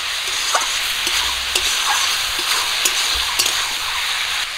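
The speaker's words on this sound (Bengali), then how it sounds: "পুঁই শাকগুলো একটু ভেজে নিচ্ছি" Malabar spinach sizzles loudly in a hot pan, a constant close frying hiss broken by repeated scraping clicks of a spatula stirring the leaves.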